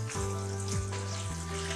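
Halwa being stirred quickly in a degchi pot as it thickens and pulls away from the sides, with soft scraping sweeps and a gentle sizzle under a steady kitchen hum. No one speaks.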